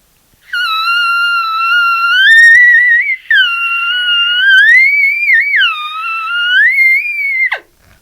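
A practice tone blown through an elk call: one sustained, clear whistle-like note that rises and dips in pitch, loud and close, with a brief break midway before cutting off.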